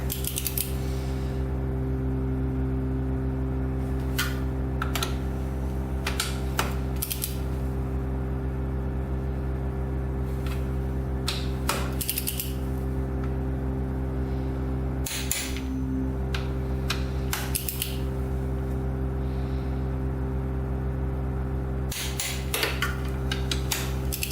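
On a special-edition quad engine, bolts are tightened with a torque wrench in scattered sharp ratcheting clicks and ticks. They sound close and sit over a constant loud low hum.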